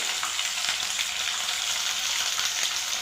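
Ginger paste frying with cumin in a pan, a steady dense sizzle with faint stirring clicks, close and continuous throughout.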